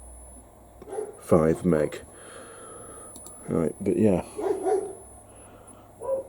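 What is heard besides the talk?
dogs barking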